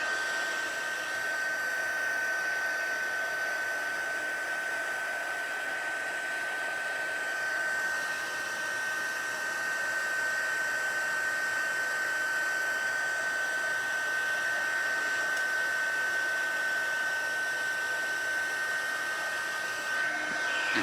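A heat tool blows steadily on the back of a textured paper piece, a constant close whirring hum with a whistle-like tone, alone for about twenty seconds.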